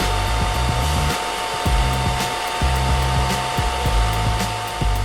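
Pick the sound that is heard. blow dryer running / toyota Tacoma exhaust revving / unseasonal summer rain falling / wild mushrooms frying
blow dryer running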